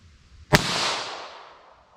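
A single sharp report from a snub-nose revolver firing a CCI Uppercut .22 LR round, a crisp crack followed by a short fading echo, outdoors and alone.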